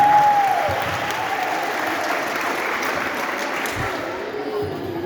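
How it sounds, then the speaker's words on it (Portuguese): Steady, dense applause from the audience at a school lecture, with a brief whistling tone at the start, continuing evenly at close range for about five seconds. "novamente uma salva de palmas para Itamar Soares Oliveira"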